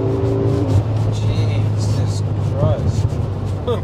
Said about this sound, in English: You can feel that power building so progressively over the RPM.